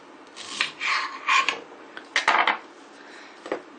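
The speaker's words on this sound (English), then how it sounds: "I cut the tips off." Several short scraping, rasping strokes of a knife on an unripe banana and a cutting surface, close and fairly loud, in uneven bursts with brief pauses between them.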